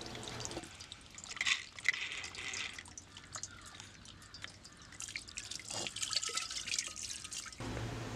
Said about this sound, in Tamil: இப்போ வெங்கல பாத்திரத்தை விளக்கிட்டேன், கழுவி காமிக்கிறேன்.